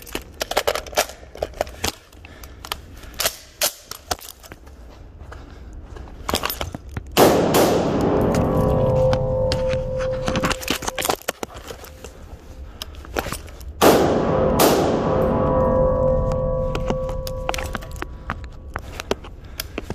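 A SIG SG 510 Stgw. 57 rifle firing outdoors, with sharp individual shots in an uneven rhythm, then two louder clusters of rapid shots with ringing echoes, close and loud.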